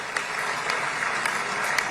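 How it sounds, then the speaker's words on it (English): Tepid audience applause, a steady wash of scattered clapping that holds at a moderate level throughout, with no voices rising above it. "There's tepid applause to that shit."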